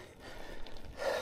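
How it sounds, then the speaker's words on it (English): Heavy, labored breathing from a rider who has just finished a bike climb with a loaded bikepacking rig on the way to Cape Wrath, close and gasping with breathy puffs, swelling louder near the end. "Tell by my breathing, I'm not fit."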